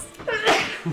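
A single person's sneeze bursts out sharply at close range, with a short voiced lead-in and a brief trailing breath, amid a casual group conversation at a tabletop game session.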